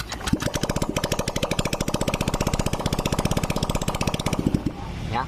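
A Honda Beat scooter engine with its exhaust removed fires up and settles into a loud, rapid, steady idle putter, close to the microphone and running without a break for several seconds.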